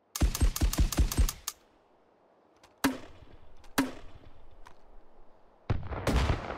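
A grenade launcher fired in the VR game Hot Dogs, Horseshoes & Hand Grenades: a fast burst of about eight sharp reports, then a few single loud bangs spaced apart, and a final heavy blast at the end.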